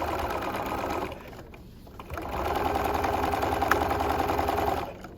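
Sewing machine stitching the top of a bucket hat to its crown, a close, steady mechanical whir that runs, pauses for about a second, then resumes for a longer continuous run before stopping near the end.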